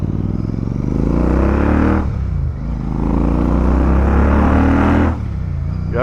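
A Royal Enfield Super Meteor 650 cruiser's engine revs close by, a throaty low burble rising in two throttle blips with a brief dip between them, loud and continuous with no talking.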